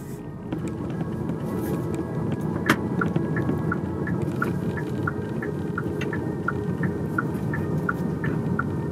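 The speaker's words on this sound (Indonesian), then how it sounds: "itu nanti dia bakal ada suara kayak spaceship gitu di bagian luar" A Hyundai Kona Electric's external pedestrian warning sound, a spaceship-like synthetic hum with regularly pulsing tones over a steady low rumble, heard from outside the car.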